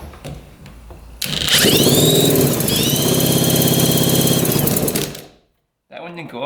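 A 1960s mini jet boat engine revs hard at open throttle, a loud sustained roar with rising whine that holds for about four seconds, then cuts off abruptly before a brief quieter mechanical sound returns.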